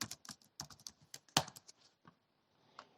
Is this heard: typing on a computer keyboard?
yes